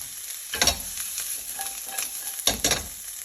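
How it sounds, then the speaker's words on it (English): Onions sizzle in a little oil in a non-stick pan, with a steady soft frying hiss broken by two louder bursts of stirring and scraping close by, no voices. "And then in go the onions."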